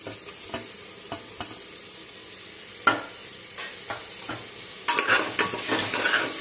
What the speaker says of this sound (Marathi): कांदाही छान लालसर रंगावरती परतायचा आहे। त्यानंतर घालूया टोमॅटो।